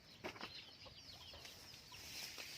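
Ducks and chickens call from a rural Lao farmyard near an outdoor cooking spot, with scattered clucks and squawks over steady high background noise, moderately distant and without talk.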